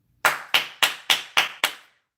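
Six sharp hand claps in an even, steady rhythm, close and crisp, each with a short decay, followed by a brief silence.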